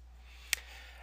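A single sharp computer mouse click on a Windows PC running estimating software, isolated and brief against a low steady hum.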